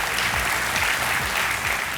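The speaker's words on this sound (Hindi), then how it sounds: "ताली बज गई है तो सही होगा" Studio audience applause on a televised quiz show, a dense, steady wash of many hands clapping at close range for the full two seconds, with no voices over it.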